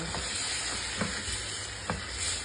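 Sweet and sour dried fish (bulad) being mixed in a pan, with a steady sizzle of frying and a few soft scraping stirs of the utensil through the fish, close by and without talk.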